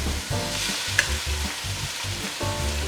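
Rabbit pieces returned to a pan with tomato paste, frying with a steady close sizzle broken by regular bursts of stirring, no talk.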